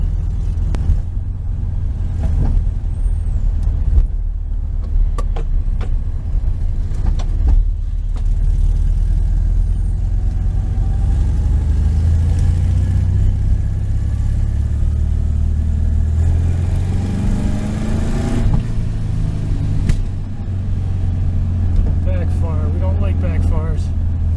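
A 1973 VW Super Beetle drives in third gear, its air-cooled engine droning and rising steadily with a low, constant rumble while someone talks over it from inside the car.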